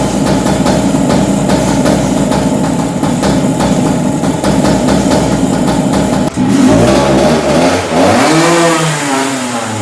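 A restored two-stroke go-kart engine runs loud and close, a steady buzzing drone that surges and revs up and down near the end, with no talk over it.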